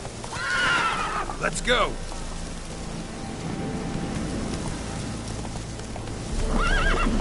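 A horse in the video game The Witcher 3 whinnies loudly and gallops with steady clip-clopping hooves over a light rain backdrop, with a second whinny near the end and a brief spoken line early on.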